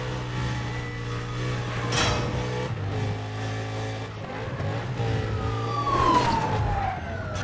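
In Need For Speed Undercover, a police siren wails steadily over a racing car's engine during a chase, with the siren tone sweeping and a car revving under it throughout.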